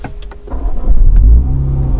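A 2021 Mini Cooper S engine cranks and fires, its start swelling into a loud, low idle rumble after a few clicks, then settling steadily with no one talking.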